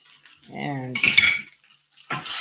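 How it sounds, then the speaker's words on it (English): Garlic stirred around a cast iron pan with a utensil, scraping and clinking against the grooved metal surface in a few close, rhythmic strokes, then a brief pause and another scrape. "stir it around so it doesn't burn"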